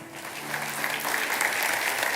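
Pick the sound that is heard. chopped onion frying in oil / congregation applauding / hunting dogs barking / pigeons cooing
congregation applauding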